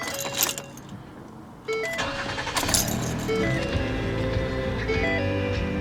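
Keys jingle in the ignition of a 2013 Ford Explorer Police Interceptor Utility with 135,000 miles, then the engine cranks, catches and settles into a steady idle, heard up close.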